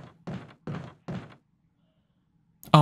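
A door in the Resident Evil 1 video game: three heavy, evenly spaced wooden thunks close by, then a short quiet gap before a sharp, loud sound at the end.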